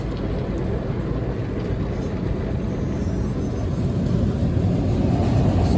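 An automatic car wash at a Shell gas station in Gilbert, Arizona, cleaning a car, giving a steady, loud, dense rush of spraying water and machinery that holds evenly throughout with no talking.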